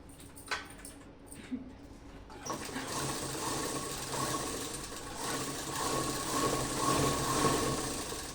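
A sewing machine runs steadily while stitching a salwar, a quiet, continuous mechanical whir that starts after a few soft clicks and handling noises, with no talking.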